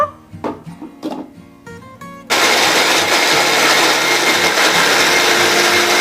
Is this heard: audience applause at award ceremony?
no